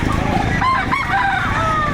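A rooster crows at a busy chicken market in Batangas, its drawn-out call rising over a dense bed of clucking fowl and crowd murmur, close and loud throughout.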